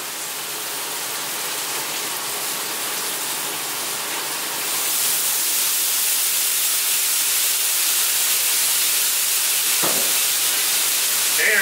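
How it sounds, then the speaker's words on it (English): Mushrooms with Worcestershire sauce steam and sizzle in a pan while a T-bone steak meal is cooked, a continuous loud hiss that swells partway through, with a brief knock near the end. "wanna steam these mushrooms a little bit, and I'm gonna do Worcestershire."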